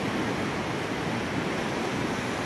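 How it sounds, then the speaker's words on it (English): A swollen, flooding Gold Creek rushes beneath a bridge in a dense, constant roar of water, loud and unbroken throughout. "And the Gold Creek is very swollen, full of water flooding over"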